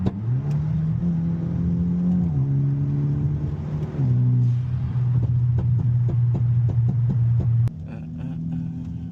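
A Hyundai Elantra N engine idles loudly and steadily after a cold start following about a week and a half of sitting, its droning tone shifting in pitch a few times, with a faint rhythmic ticking underneath.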